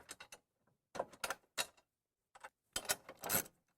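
Bolts fitted back onto the arm of an XDX hose reel, heard as short scattered metallic clicks and rattles close by, separated by brief silences.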